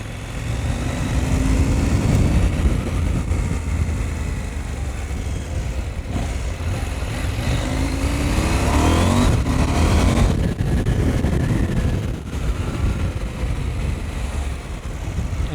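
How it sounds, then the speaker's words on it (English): KTM 790 Adventure R motorcycle riding through central Vienna near the Burggarten and Hofburg, its engine droning steadily and rising and falling with throttle under heavy wind and traffic noise. "In case you're wondering what motorcycle I have, it's a KTM 790 Adventure R"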